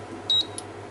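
A cooker timer beeps while being set: one short electronic beep followed by a fainter, briefer second chirp over a low steady hum.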